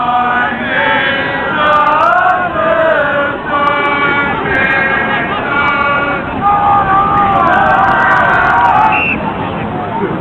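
Rugby crowd at an Eton versus Harrow match singing Harrow school songs in loud, sustained massed voices, with cheering swelling near the end and a steady outdoor hubbub beneath.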